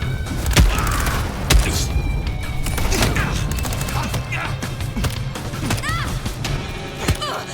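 Gunfire during a Vampire: The Masquerade – Bloodlines 2 fight: several heavy, punchy shots ring out at intervals amid clattering combat noise, with voices talking over the action.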